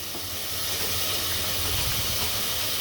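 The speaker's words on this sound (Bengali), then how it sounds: "এইভাবে আমি পেঁয়াজটা ভেজে নিব।" Chopped onion fries in hot oil on a stove while cooking ridge gourd, giving a steady broadband hiss and sizzle that holds evenly throughout, fairly close, with a brief clink at the very end.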